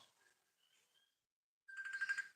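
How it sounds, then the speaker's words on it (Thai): A phone ringtone for an incoming call: a short, bright, pulsing electronic melody heard alone after faint earlier sounds, moderately loud and close. "สายเข้าแล้ว"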